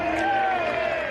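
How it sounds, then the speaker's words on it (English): A crowd at a lawn bowls pennant match between Cabramatta and St Johns Park breaks into a short, steady burst of cheering and shouting, with a voice speaking over it. "And the crowd erupts"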